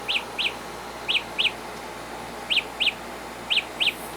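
Samsung Galaxy Buds Live sounding their Find My Earbuds alert: a synthetic chirping-bird tone in repeated pairs of bright tweets, four pairs with short gaps between, clear over a faint background hum.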